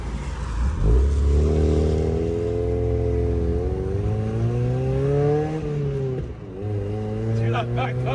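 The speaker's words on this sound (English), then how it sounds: "Hear that backfire?" A 1994 Mazda MX-5 Miata engine revs up close, its tone climbing and falling in long sweeps, then dipping before revving again. A few sharp crackling pops come near the end, and people talk over it.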